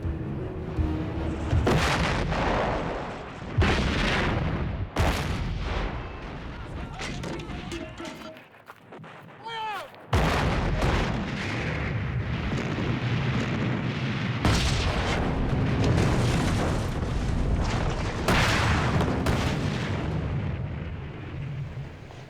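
Artillery fire during the siege of Leningrad, with repeated heavy booms and crashing bursts overlapping in a dense, loud barrage that drops briefly to a lull before resuming.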